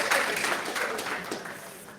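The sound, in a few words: audience applause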